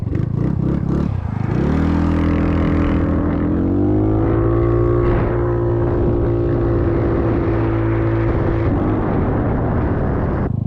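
A small 50cc GY6 scooter engine fitted with a big bore kit revs up, then holds a loud, buzzing drone as it rides along, pitch rising and settling with the throttle.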